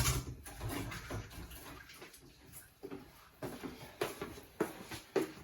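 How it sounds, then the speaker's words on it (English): Running tap water pours over hands during a quick wash between steps of making a banana and chocolate bread and butter pudding, with soft splashing and intermittent water bursts, fairly quiet, no talking. "quick hand wash."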